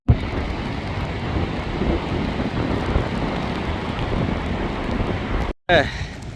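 Strong wind at the beach on Blackpool's north shore roars and buffets against the microphone in a continuous loud rush, with a brief cut near the end.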